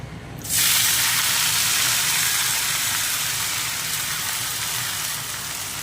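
A loud, sudden sizzle erupts as jute leaves hit hot oil with fried garlic, then a steady crackling hiss continues close by, easing slightly toward the end.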